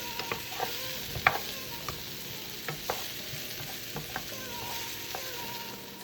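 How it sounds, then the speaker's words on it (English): Vegan meatballs sizzling in a pan alongside mushrooms, onions and garlic, a steady low frying crackle broken by light, irregular spatula clicks and scrapes, close and moderately quiet with no talking. "Make sure each meatball is cooked thoroughly on each side."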